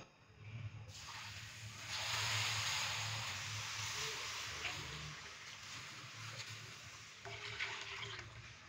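Sugared milk is poured slowly into cooled semolina for an egg and semolina halwa, a continuous rushing, gurgling stream that runs steadily for several seconds at moderate volume.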